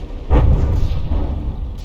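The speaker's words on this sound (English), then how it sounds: "enjoying the explosions" A deep explosion booms in a video game naval battle between the battleships Bismarck and New Hampshire, hitting sharply after a brief lull and then rolling into a low, sustained rumble.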